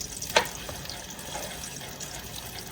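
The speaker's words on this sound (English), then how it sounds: "Once it starts sizzling and cooking on the edges" A torta omelet frying in a pan, a low, even sizzle with one sharp scrape or tap early on, close and moderately quiet, no talking.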